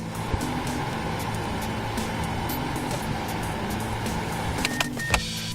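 The air conditioner blower motor in a Mazda 5 micro van runs steadily, a constant close whooshing airflow with a low hum and a few faint clicks near the end.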